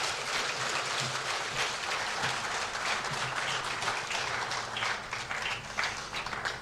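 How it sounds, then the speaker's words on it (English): An audience at a formal news event gives a round of applause, a steady dense patter of many hands clapping at moderate volume that continues for several seconds without a break. "please, a round of applause"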